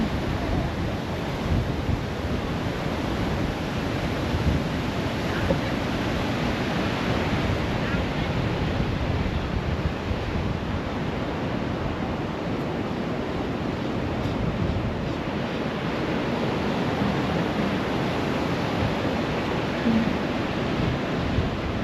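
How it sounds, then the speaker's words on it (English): Continuous roar of Atlantic surf at Daytona Beach, Florida, with wind rushing across the microphone, a steady wash of breaking waves and no voices. "And those waves look so cool."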